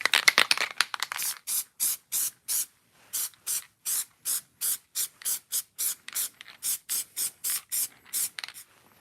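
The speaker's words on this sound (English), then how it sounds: "Now we will spray this piece. Spray both pieces." Spray can of glue misting onto miniature diorama pieces, a long run of short hissing bursts in a steady rhythm, close and crisp, with no talk.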